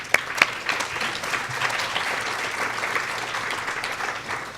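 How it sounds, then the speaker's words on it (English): At a conference welcome, the audience claps in a steady, dense round of applause, with a couple of sharper claps standing out near the start. "So round of applause for them."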